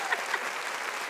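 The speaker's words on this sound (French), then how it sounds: "Applaudissements, s'il vous plaît." Studio audience applause on a French-language talk show, a brief, moderately loud patter of many hands clapping together with no voices.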